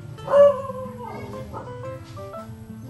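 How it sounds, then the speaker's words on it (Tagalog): A dog gives a short bark followed by a few whiny yelps, close by, with faint household noise beneath. "Aso ko tumataw."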